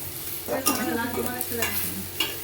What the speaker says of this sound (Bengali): দেখুন ফ্রাই করতে তেল দিল।